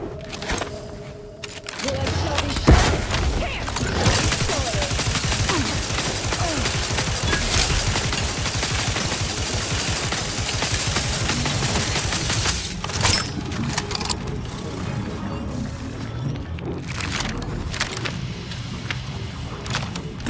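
Grenade blast and gunfire in The Outer Worlds 2, with a sharp boom early on followed by a sustained, loud clatter of shots and combat noise that fades toward the end.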